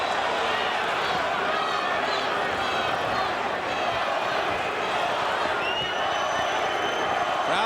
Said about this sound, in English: Crowd is chanting,